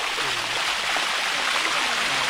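A waterfall in Thailand rushes and splashes steadily, loud and close, in a continuous broadband roar, with faint voices underneath.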